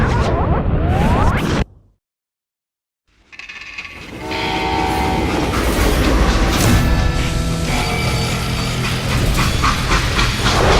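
A train in the video game Call of Juarez: Gunslinger rumbles loudly, with hissing steam and a blaring horn. The sound starts with a roar, drops to brief silence, then returns as a dense, continuous rush.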